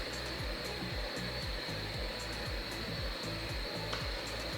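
A Cricut Autopress heat press hums and whirs steadily as it heats up, a constant even drone with a faint repeating pulse underneath and no voices.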